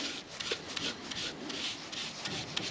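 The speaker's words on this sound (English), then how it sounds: "We're going to give this a coat of rust converter" A brush scrubs rust converter onto the bare metal of a Citroen Relay van, making quiet, rhythmic bristly rubbing strokes close by, with no talk.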